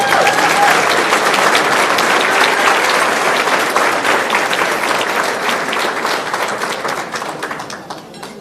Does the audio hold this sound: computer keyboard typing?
no